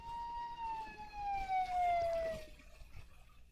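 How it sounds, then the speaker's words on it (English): Siren of an emergency vehicle in the film Night of the Living Dead, a single loud wailing tone sliding slowly downward as it passes, fading toward the end over faint background rumble. "Someone called the ambulance."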